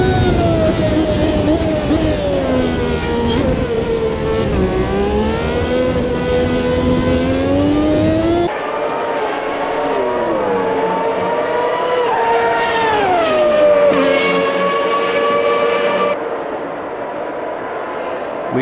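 Engines of historic racing cars in the game Automobilista 2 at Monza roar continuously as several cars speed past, pitch rising and falling with each pass, loud and close throughout.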